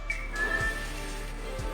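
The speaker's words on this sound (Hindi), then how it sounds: "तभी उसे एक तेज सीटी सुनाई दी।" A sharp, high whistle cuts through a snowy, deadly cold scene in a dramatic narrated film, a single sliding tone held briefly over a low steady background, with a couple of soft thuds.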